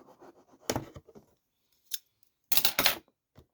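Scissors cut into sealed plastic toy packaging for a Neca Spider Gremlin figure, with a few sharp crunching snips and rustles, close and loud between quiet gaps.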